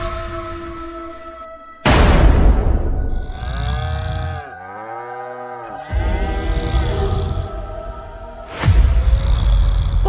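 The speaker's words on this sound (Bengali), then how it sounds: "বাছুরটা দুধের জ্বালায় ডাকতে ডাকতে পাগল হয়ে গেল" A cattle calf lows for milk in a cartoon scene, giving three loud, drawn-out moos with rising and falling pitch, separated by short gaps and standing alone without talk.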